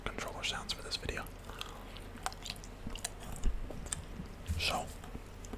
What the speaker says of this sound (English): So we're gonna chew gum.